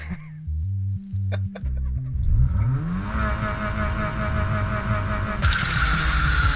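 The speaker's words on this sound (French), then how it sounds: "C'est comme ça qu'on démarre une voiture de rallye, hein." Rally car engine cranking in short stuttering bursts, then catching and revving up into a loud, sustained rising roar close by.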